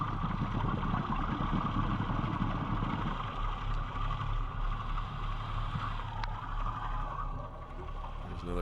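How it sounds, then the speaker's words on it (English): Underwater off Hawaii's Big Island, a boat engine drones as a continuous low, humming whine, steady and moderately distant, with no speech. "I don't remember hearing this many boats when I was down there."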